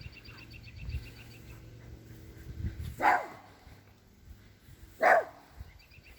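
Small dog Charlie barking in the background, two sharp distinct barks a couple of seconds apart, with quieter yips and a low mechanical hum beneath.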